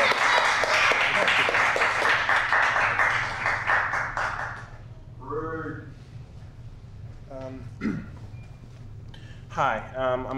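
Audience applause at a poetry reading in a branch library, dense clapping for about five seconds before fading out, followed by a few scattered claps and a voice beginning to speak.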